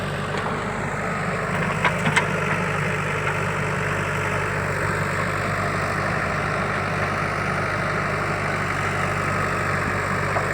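A JCB excavator engine idles steadily on farmland where soil is being brought in to fill the ground, giving a continuous low rumble with no pauses and no voices.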